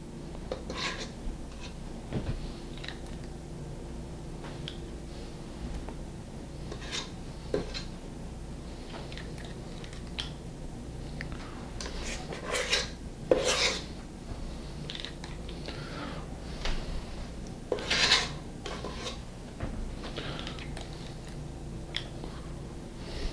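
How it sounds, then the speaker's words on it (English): An ice cream scoop scrapes and drops blueberry muffin batter into a greased muffin pan, making soft, intermittent sticky scrapes and light metallic taps close by, repeated at irregular intervals with no talking. "We're going to take our greased muffin pan and we're going to scoop out our batter"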